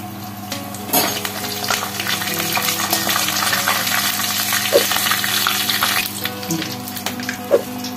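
Whole garam masala (bay leaf, cardamom, cloves, cinnamon and a little cumin) fries in hot oil with a steady, close sizzle, broken by a few sharp clinks and stirring scrapes of a utensil against the pan.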